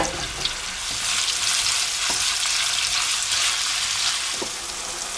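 Loud, continuous sizzling of ground meat frying in hot oil in a wok, with occasional scraping taps of a utensil stirring.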